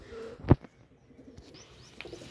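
A pigeon kept by rooftop pigeon fanciers gives one short, sharp coo near the start, followed by faint, softer calls against quiet background noise.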